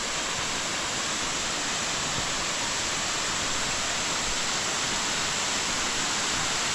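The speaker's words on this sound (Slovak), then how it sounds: "jaký krásny vodopad." Waterfall in Africa pours in a steady, dense broadband roar, constant and fairly close, with no voices over it.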